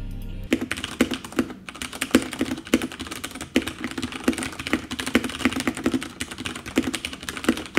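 Steady, close typing on a computer keyboard while coding a Python program, a rapid run of clicky keystrokes with brief pauses, no voices.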